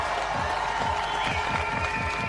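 Crowd at a BMX flatland World Cup contest in Montpellier cheering and clapping at a moderate distance, a steady wash of applause with a faint commentator voice underneath.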